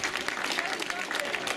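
Crowd applause at the podium ceremony of the 2014 Flèche Plédranaise cycling race, honoring the Borselard team: a continuous wash of clapping at moderate level, with a public-address voice faintly mixed in.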